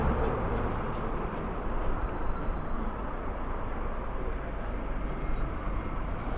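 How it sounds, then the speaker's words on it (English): A drone struggling in strong wind, heard as a continuous loud roar of wind buffeting and engine-like noise, steady and close with no talking. "We're gonna have to get the drone back in soon because it's struggling in the wind."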